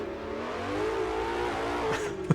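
A 1960s GTC race car in an Assetto Corsa mod revs its engine, the pitch climbing in a steady rising drone up close, ending with a quick gear change and a short bark.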